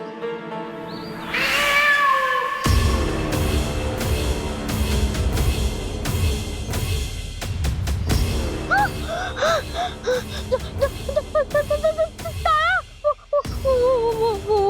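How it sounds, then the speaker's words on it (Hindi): A fierce cat yowls in a drama scene, a long wavering cry rising and falling over a dense backdrop of dramatic music, with several short sharp meows toward the end. "कहीं वो उस खूंखार बिल्ली की तो आवाज नहीं"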